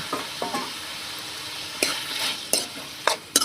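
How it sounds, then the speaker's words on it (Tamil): Tomatoes sautéing with ginger garlic paste in a pan for dhaba-style chicken varuval, a steady low sizzle broken by a few sharp scrapes of stirring, close and alone without talk. "தக்காளி நல்லா வதங்கட்டுங்க"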